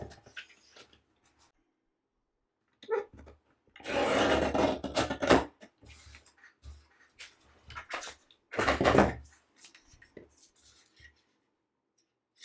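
Scissors cut scraps of Gelli-printed paper, making two louder bursts of snipping and rustling separated by quieter handling noises and silence.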